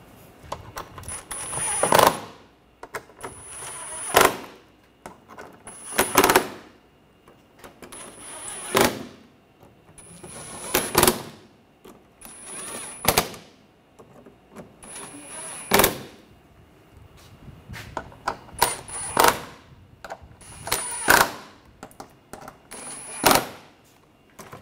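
Screws on front parking assist sensors of a 2013-2019 Ford Escape being tightened, heard as a regular series of about a dozen close, sharp ratcheting clicks and squeaks spaced roughly two seconds apart.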